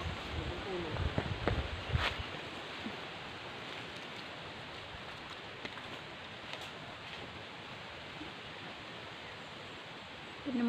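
Strong wind rushes steadily outdoors in hot weather near pepper trees, a broad continuous hiss with a few louder gusts early on, then an even wash to the end.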